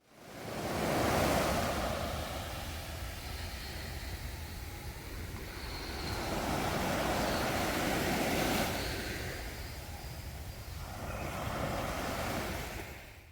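Sea waves at Lara Beach in Antalya, Turkey, rolling in as a loud, wind-buffeted surf roar that swells and recedes in slow surges, with no voices.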